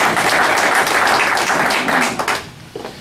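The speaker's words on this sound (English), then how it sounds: "one more round of applause to Tony and Ted" Applause from a dinner audience at a political gathering, a loud, full burst of many hands clapping that fades out over a couple of seconds, leaving a few last claps.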